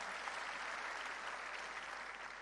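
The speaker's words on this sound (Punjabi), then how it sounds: "ਇੱਕ ਵਾਰ ਜ਼ੋਰਦਾਰ ਤਾੜੀਆਂ ਮਾਰੋ" An audience at a political gathering, where Arvind Kejriwal meets district council and block committee members, claps loudly in a dense, steady burst of many hands that holds at an even level for the whole stretch, with no voices on top.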